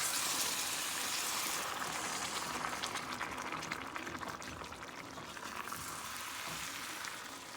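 Very hot liquid hits semolina cooking in a pan over very low heat, giving a broad, steady sizzle and hiss that stays loud throughout and eases off slightly midway, with no voices.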